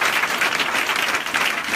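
A church congregation at a Friday evening prayer and deliverance service breaks into dense, continuous applause that fills the room, with no single voice standing out.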